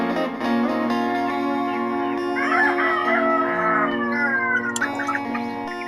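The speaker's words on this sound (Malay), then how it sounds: "Ni ayam cross ya, ayam cross." Cross-breed chickens being moved between coops call out nearby, with drawn-out, crowing-like vocalizations layered over one another in a continuous stretch, loud and close with no talking.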